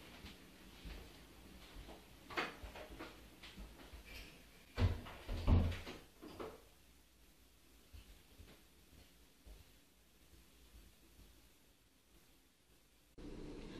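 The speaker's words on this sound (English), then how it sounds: "I'm going to close the door, be out there with the GoPro" A door is shut in a quiet house during a night-time ghost watch, with a couple of soft bumps followed by a sharper close thud, then near silence with faint room noise.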